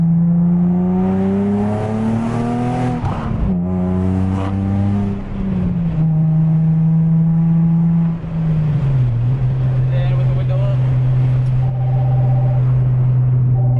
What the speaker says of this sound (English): This is what the car sounds like without the Plenum spacer.